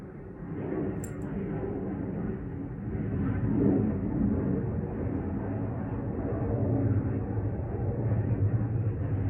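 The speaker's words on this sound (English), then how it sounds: "That's an airplane." An airplane passes overhead, a steady low rumbling roar that swells slightly and holds for several seconds, fairly loud and continuous.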